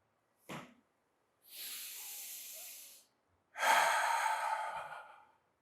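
Someone practicing chair yoga breathes deeply, giving a short sharp inhale followed by two long, airy exhales, close and clear in a quiet room.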